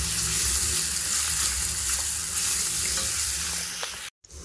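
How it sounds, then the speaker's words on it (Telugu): Ginger garlic paste and onions fry and crackle in a pan for an Andhra-style chicken drumstick curry, a dense, loud, steady sizzle with stirring scrapes that cuts off abruptly near the end. "అల్లం వెల్లుల్లి పేస్ట్ పచ్చి వాసన పోయేంత వరకు బాగా ఫ్రై చేసుకోవాలి"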